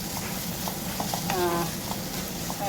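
Liver and banana blossom stir-fried in a pan give a steady, close sizzle with light scraping stirs throughout, a brief squeaky tonal scrape near the middle.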